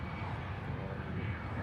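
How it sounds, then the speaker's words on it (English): An EasyJet airliner on its takeoff roll on runway 23 left at Manchester Airport gives a steady, broad engine roar, moderately distant, with a faint voice underneath. "There is a EasyJet on runway 23 left on the roll now"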